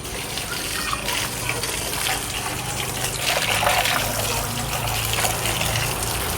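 Water running from a pipe into a container, a steady gushing trickle that fills the space, close by with faint voices in the background.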